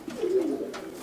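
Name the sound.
pigeon (Madrasi pigeon) cooing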